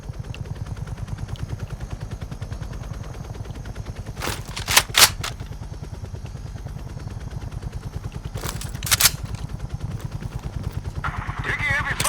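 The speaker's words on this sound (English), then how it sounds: "Taking heavy fire, waving off." Call of Duty: Black Ops Cold War on PS5: a steady, rotor-like low pulsing runs throughout, broken by two short, sharp bursts of heavy gunfire, with voices talking during the action.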